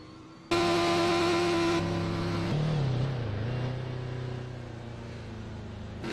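GT3 race cars in a racing video game pace around the track, making a loud, sustained engine drone with shifting pitch, one engine note dropping and settling into a steadier hum.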